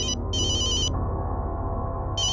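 A bright electronic phone ringtone trills in two bursts, pauses, then starts again over a steady low background hum, loud and close.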